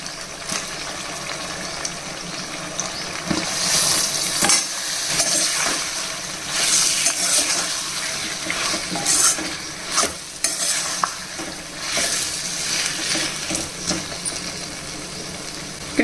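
Potato and tomato pieces being stirred in oil in a pan, repeated scraping and clattering strokes over a continuous sizzle, close and fairly loud, with no voices.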